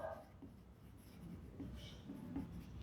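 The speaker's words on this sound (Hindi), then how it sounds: "तो यहां पर हम लिखेंगे" A marker or chalk scratches faintly across a board during a chemistry lecture on balancing redox reactions, a few short, quiet strokes under low room noise with no clear talk.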